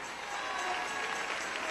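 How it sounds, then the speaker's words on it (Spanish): A church congregation claps in a dense, steady wash of applause, sustained and fairly loud for the brief moment, with faint voices mixed in. "Dale ese aplauso al Señor."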